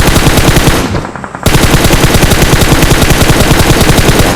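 Loud, close automatic gunfire from PUBG Mobile rattles in rapid continuous bursts, briefly dropping off for a moment before resuming a dense, unbroken stream of shots.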